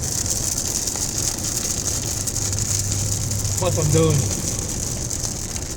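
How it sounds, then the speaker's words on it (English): Heavy rain drums on a car travelling at about 65 miles an hour, a dense constant wash of rain and road noise close around the cabin while someone speaks briefly over it. "Oh man, this rain is coming down."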